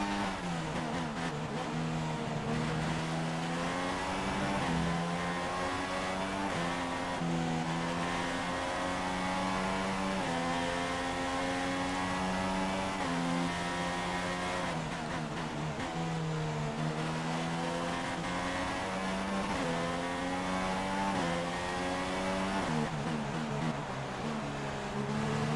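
Formula 1 race car engines in F1 2016, a continuous high-pitched engine whine that rises and falls through gear shifts, steady and loud for the whole stretch.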